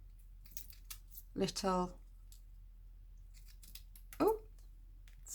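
Scissors cut small squares from card for a Christmas card in two brief crisp snips a few seconds apart, close and clear over a quiet room. A voice speaks briefly.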